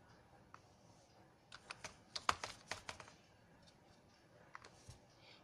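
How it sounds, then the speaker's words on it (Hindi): Someone types a website address into a browser on a computer keyboard: a quick run of sharp key clicks in the middle, with a couple of scattered taps before and after, close and fairly quiet. "फर्स्टली हम अपने ब्राउज़र पर यहाँ पे एनसीईआरटी की लिंक टाइप करेंगे"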